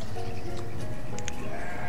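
A sheep bleats in the village-building game Banished, a short in-game animal call over a steady game soundscape.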